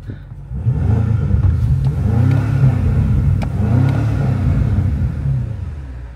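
A BMW X6M Competition engine revs up, holds a throaty rumble through a couple of rising and falling surges, then settles, with no talking.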